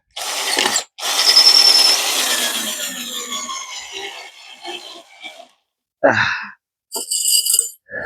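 A ratchet being tightened during a DIY build of a T-bar rower from railway sleepers gives a long, loud, close run of rapid clicking that fades out, followed by a few short separate clicks and bursts.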